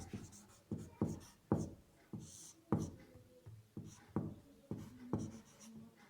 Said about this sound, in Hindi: यहाँ लिख देता हूँ मैं